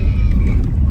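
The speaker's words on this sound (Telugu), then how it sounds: "ఋషి మోడల్ కార్ నడుపుతున్నాను ఫ్రెండ్స్" Ruby-model car driving on a road toward a temple, a steady close low engine and road rumble filling the short moment without pause.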